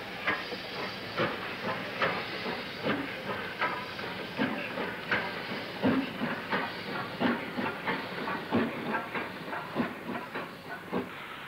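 Steam locomotive 44963 shunting in a goods yard on the Wirral, a steady rhythm of hissing steam beats and light rail clatter, moderately distant with no voices.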